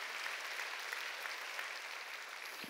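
A congregation claps during a church worship service, a steady, fairly distant wash of many hands clapping together without pause, quiet and even throughout.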